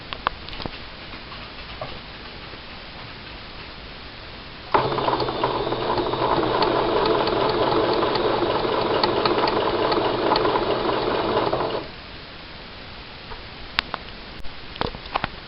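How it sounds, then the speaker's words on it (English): A sewing machine stitches bias tape in a steady, close, continuous whirring run of about seven seconds, with quiet handling sounds before and after. "I'll just run this through the machine"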